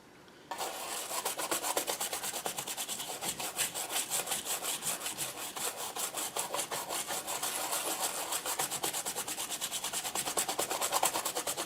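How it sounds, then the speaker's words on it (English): A brush scrubs dirt and oxidation off a 19-inch K7000A arcade monitor chassis in fast, rhythmic strokes. The scratching is close and even, with no talk over it. "grab my brush, and let's do some cleaning"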